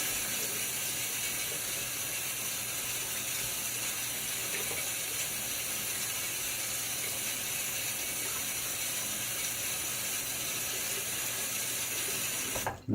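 Tap water runs steadily into a sink for over twelve seconds as a shaving razor is rinsed, a constant close hiss and splash that cuts off abruptly at the end.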